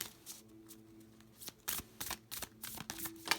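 Quick riffling snaps of a card deck being shuffled, several short bursts in succession, close and fairly quiet.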